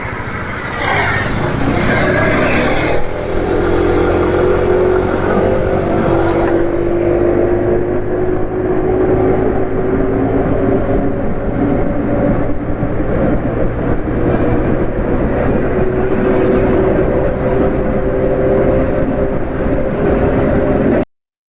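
Car engine pulling hard from a standstill up toward 90 km/h, running on Trust Miracle 831 10W40 oil and feeling heavy; a steady loud drone with rising engine pitch through the gears, road and wind noise throughout.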